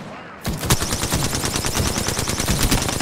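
Rapid gunfire from an enemy team in the video game Apex Legends, a dense, loud burst of overlapping shots that starts suddenly and keeps going without a break.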